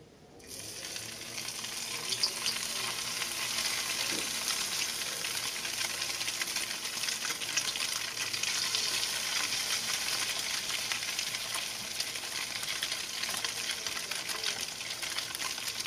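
Mullet fillets sizzle in a hot pan with a steady, close, crackling hiss that holds evenly throughout.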